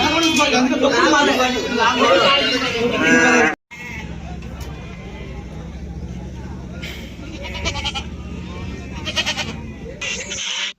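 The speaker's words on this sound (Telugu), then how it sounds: "ఈ ఆంటీ ఉన్న అంకుల్ అయితే 2 మేకపోతులు అయితే పట్టుకొచ్చారు." Goats bleat repeatedly at a busy village livestock market, including two male goats brought in for sale, the calls rising over loud nearby talk and the steady murmur of the crowd.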